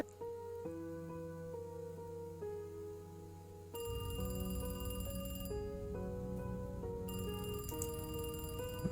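A telephone rings inside the horror game Devil's Route, a steady repeating electronic ring that grows louder and brighter midway, continuing alone with no talk.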